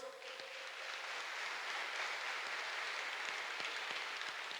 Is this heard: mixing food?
no